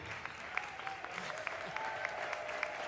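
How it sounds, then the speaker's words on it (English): Students in a Houston-area reading challenge receive applause, a steady patter of clapping with scattered sharper claps, fairly distant and moderately faint amid room noise. "Give yourselves a big round of applause"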